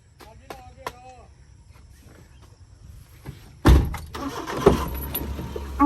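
A car in a Punjabi village setting, heading to a car wash for service, with a loud door thunk and engine noise rising partway through after quieter clicks and rustling; speech is faintly present.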